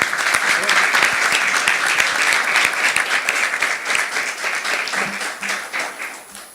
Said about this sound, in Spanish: Quisiera pedir una ronda de aplausos para nuestros panelistas.